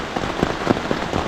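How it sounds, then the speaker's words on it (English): Heavy rain falls hard at a riverside homesite near the Appomattox River, a dense, continuous hiss of drops close by with scattered louder splats, alone with no voices. "and it's still raining really hard."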